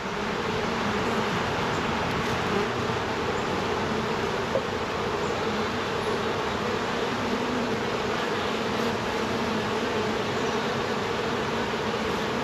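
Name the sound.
honey bees buzzing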